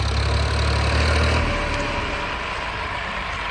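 A Sonalika tractor engine rumbles nearby at a loud, steady idle, its low throb easing slightly partway through, with no voices.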